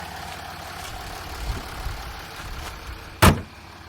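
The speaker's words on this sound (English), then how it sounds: "V6 turbo diesel, lovely and quiet." A 2012 Range Rover Sport L320's V6 turbo diesel idles quietly with a low steady hum, broken by a soft knock midway and a short loud thump near the end, like a door closing.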